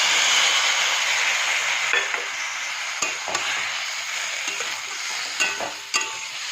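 Potatoes and onions fry in a pan with ginger, chili powder and cumin powder, giving a continuous close sizzle broken by several sharp spatula scrapes and knocks as the mix is stirred.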